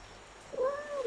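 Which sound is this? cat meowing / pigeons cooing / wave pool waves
cat meowing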